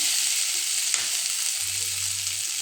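Cumin and mustard seeds frying in hot coconut oil for a Telugu cluster bean curry, a loud, close, steady sizzle with a low rumble rising near the end, no voices.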